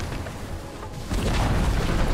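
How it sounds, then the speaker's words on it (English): A tier 2 tower collapsing in a Dota 2 match at The International, a deep rumbling boom that swells and holds low and heavy over steady game sound, with little talk. "There goes the tier 2 tower on bottom lane."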